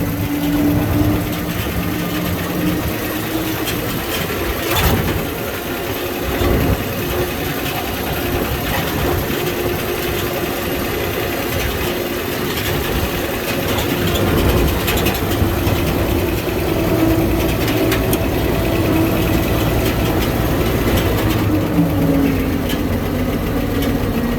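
An old vehicle's engine runs steadily on its first drive with its old transmission and rear end, a continuous loud rumble and mechanical drone that stays close throughout, with no talking.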